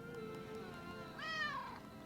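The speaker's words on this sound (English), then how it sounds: "What you meowing about?" A house cat meows once, softly and close by, with a rising then falling tone against a quiet background hum.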